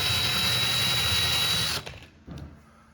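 A power drill whines steadily and loudly while backing out a painted-over cabinet hinge screw, then cuts off abruptly, leaving a brief quiet gap and a short final burst.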